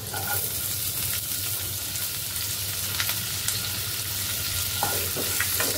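Chopped onion with ginger and garlic fries in hot oil in a pan, a dense continuous sizzle close up with occasional utensil scrapes and clicks, no voices.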